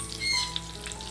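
Large kingfish (surmai) slices sizzling in a frying pan while being flipped, a steady close hiss with a small clack, no talk.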